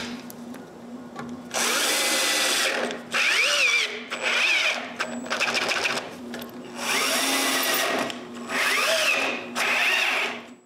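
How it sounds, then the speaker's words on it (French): A power drill boring screw holes in wood, running in about six separate whirring bursts of a second or two each, close and loud, with short pauses between them over a low steady hum. "j'ai juste à percer les trous pour les vis qui vont retenir les deux parties ensemble"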